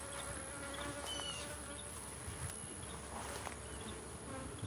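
Honeybees swarm around a hive being treated for mites, giving a dense, steady buzz with a few louder fly-bys passing close, quiet overall and with no talk.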